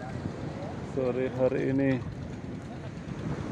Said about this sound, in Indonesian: Angin kencang, ombak besar.